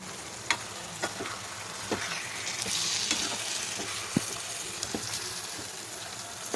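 Beef igado sautés in a pan with a constant soft sizzle, punctuated by scattered scraping and tapping strokes of a utensil against the pan.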